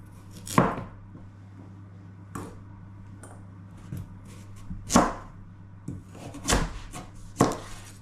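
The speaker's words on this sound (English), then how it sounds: "Now I'm going to cut carrots" A knife chops carrots on a cutting board in sparse, sharp knocks at irregular intervals, some louder than others, over a faint steady hum.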